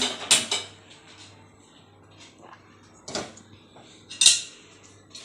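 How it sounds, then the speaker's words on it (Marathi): A metal kadhai set down on a gas stove before frying onion bhaji, a few sharp clanks and knocks spaced apart, close by, with quiet moments between them. "आता आपण भजी तळण्यासाठी कढई गॅसवर ठेवून घेऊया. गॅस स्टार्ट करूया."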